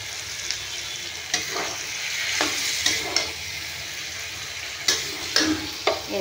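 Pointed gourd and potato curry frying in released oil, with a continuous close sizzle and occasional scraping stirs, alone without talk.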